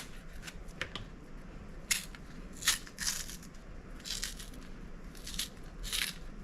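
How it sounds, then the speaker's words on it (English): A knife cuts slits into the skin at the end of a plantain, producing several short crisp cutting crackles in bursts, close and fairly quiet. "I get the plantain and I put some slits in the end."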